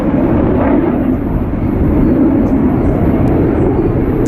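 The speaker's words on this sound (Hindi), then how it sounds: "एक के बाद एक कई लड़ाकू विमान और हेलीकॉप्टर इस वक्त उड़ान भर रहे हैं" Fighter jets and helicopters fly past at the Aero India 2021 air show in Bengaluru, a loud, steady, broadband engine roar that fills the whole stretch without a break.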